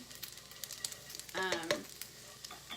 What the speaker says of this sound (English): This pancetta is pretty much, it's crispy.